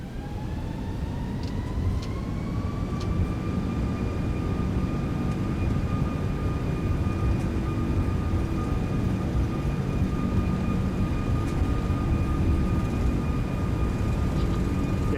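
An Airbus A340-600 takes off from Seattle in a flight simulator game, its engines spooling up into a steady high whine over a dense roar that holds loud and even throughout.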